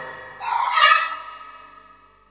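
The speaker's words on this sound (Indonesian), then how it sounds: "Ada suara soang tadi." A goose gives a single harsh, nasal honk close by, rising and then trailing off over about two seconds.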